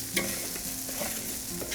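Rice is stirred in a sizzling paella pan, with a continuous frying crackle, scraping strokes and small clinks over about two seconds, close and without talk.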